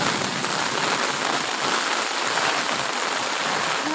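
Steady rain falls on surfaces nearby, a constant close patter and hiss with no break and no speech.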